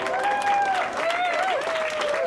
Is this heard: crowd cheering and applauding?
yes